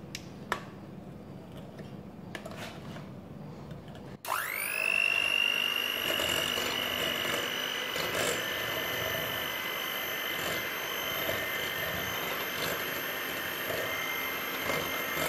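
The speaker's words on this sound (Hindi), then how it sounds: "अब इसे हम ब्लेंड कर देंगे।" A blender whirs pancake batter with an egg in it, starting abruptly after a few soft kitchen taps and then running as a loud, steady, high-pitched motor whine close by.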